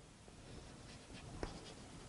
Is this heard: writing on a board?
yes